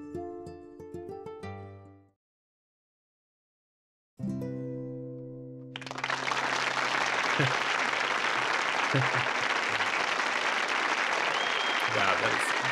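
In the Frog Detective 3 video game, a musical passage ends and a pause of silence follows. A bright chord then sounds before a loud, sustained wash of crowd applause rises and continues steadily to the end.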